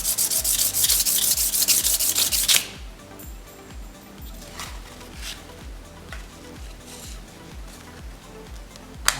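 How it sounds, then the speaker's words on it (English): Thin knife washers for a titanium and G10 folding knife are lightly sanded by hand, a close, steady rubbing scrape in repeated back-and-forth strokes after a brief loud burst at the start. "Sand these very, very lightly because they're already kind of thin."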